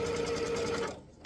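A sewing machine stitches red fabric down on a quilt block with a steady, close mechanical whir for about a second before stopping, followed by a brief click.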